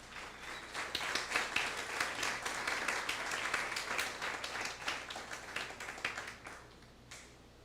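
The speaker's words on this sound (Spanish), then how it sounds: "Dale ese fuerte aplauso al Señor." A church congregation applauds with dense, sustained clapping that holds steady for several seconds, then thins out toward the end.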